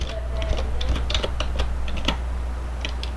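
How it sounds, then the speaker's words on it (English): Typing a search on a computer keyboard, a quick irregular run of close, crisp key clicks over a low steady background hum. "go up to your search bar, type in Dodge"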